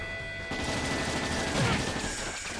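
Explosion in the video game Trails in the Sky SC, a burst of crackling, gunfire-like blasts that starts abruptly and rumbles on over in-game music with a faint tone.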